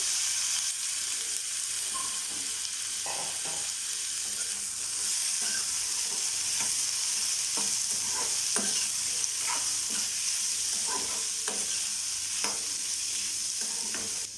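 Onion and Chinese potatoes sauté in a pan under a dense, even sizzle, with regular spatula scrapes and clicks from stirring throughout.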